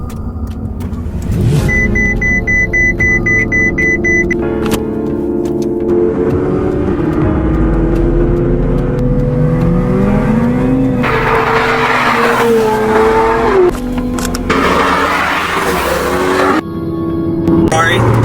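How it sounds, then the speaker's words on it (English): Engine of a 2023 Ferrari 488 Pista with its twin-turbo V8 revs hard and loud, rising and falling pitch sweeps with tire-squeal-like whines, sustained throughout with someone talking over it. "You hear that? V8 right there, 2 squirrel fans, twin turbo in the back."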